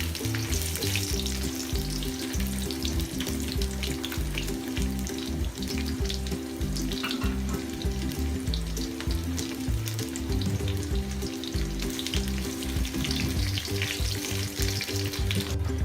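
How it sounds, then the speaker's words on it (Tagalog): Onions frying in a pan for Filipino beef steak, a loud continuous sizzle and crackle that holds steady throughout with no voices. "hintayin lang natin siya guys na mag-iwahiwalay ang ating sibuyas. So, i-fry lang natin siya ng bahagya."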